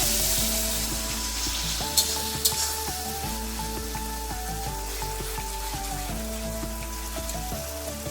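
Masala for Bengali-style chicken kasha cooking in a pan with a little hot water, a steady close sizzle with a few sharp pops over a continuous low background hum, no talking.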